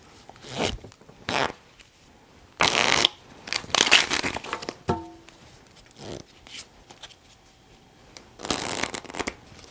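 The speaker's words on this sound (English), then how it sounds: "Full shuffle." A deck of playing cards is given a full riffle shuffle by hand, with several quick, crisp bursts of cards riffling and slapping together, separated by short quiet pauses, close and clear.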